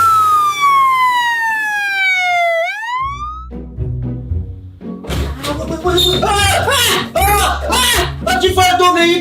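A loud wailing police siren sweeps down in pitch, then cuts off; music and noisy voices take over afterward.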